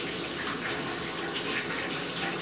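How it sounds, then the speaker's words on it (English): Purigen filter media from an aquarium sump rinsed under a running tap, a steady close hiss of flowing water with no pauses. "Now this here is Purigen. I'll just give it a nice rinse."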